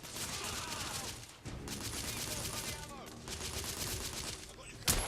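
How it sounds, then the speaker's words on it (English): Rapid gunfire fills a shootout in the video game The Order: 1886, dense bursts of shots rattling almost without pause, broken by a short gap and capped by a sharp loud crack near the end. "Oh shit. I'm shooting."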